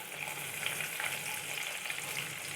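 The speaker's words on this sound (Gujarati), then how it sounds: "હવે આપણે થોડું ક્રેકલિંગ થવા દેશું અને થોડી સારી ફ્રેગ્રન્સ આવે એની રાહ જોઈશું" Whole spices crackling and sizzling in hot oil in a pan for paneer butter masala, a steady close hiss with fine popping throughout, no voices over it.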